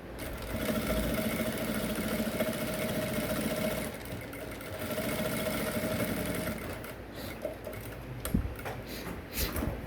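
A sewing machine runs in long steady whirring bursts while stitching neck piping onto an Ankara top, pausing briefly, then giving way to scattered clicks and handling of fabric.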